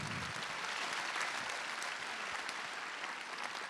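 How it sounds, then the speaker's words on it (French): An audience at a municipal New Year's greetings ceremony in Yerres claps together, a sustained even wash of applause from a sizeable crowd, steady and continuous with no voices rising above it. "Merci de l'applaudir"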